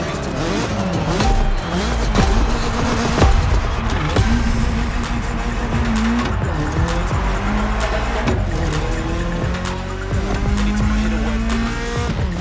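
A BMW M3 driving in The Crew Motorfest, with a loud sustained engine note rising and falling through gear changes, tire squeals and skids running throughout.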